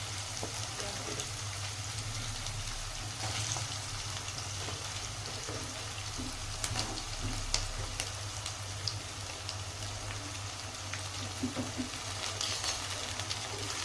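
Garlic paste and chopped tomato frying in a pan for aloo kurma, giving a steady soft sizzle with occasional crackles and light stirring scrapes, alone at moderate level.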